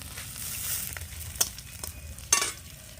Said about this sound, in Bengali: দিয়ে দিচ্ছি রসুন ফোড়নে গোটা রাঁধুনি